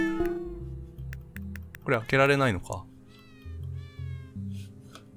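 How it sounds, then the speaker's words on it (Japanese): Cat meows from the Hidden Paws puzzle game, a few short mews with one louder drawn-out meow in the middle, mixed with game music and someone talking. "にゃー、いたかわいいですね、猫。"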